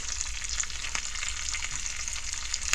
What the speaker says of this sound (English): Start to fry it pretty good. Cast iron cooking.